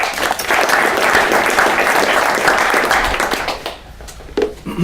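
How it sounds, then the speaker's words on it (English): Audience applause at a Growth Hacker Talk event, a dense steady wash of clapping from a crowd that holds for about four seconds, then thins out and breaks into a few scattered final claps. "So also please give them a big round of applause"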